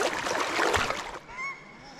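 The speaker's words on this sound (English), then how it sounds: "Paradise ducks, a bit upset with me." Paradise ducks call out in a few sharp, agitated honking notes over a rushing background of river water, the calls rising clearly near the end.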